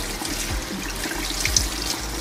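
A hookah part is rinsed under a running tap, a steady close rush of water splashing into a sink, no talking.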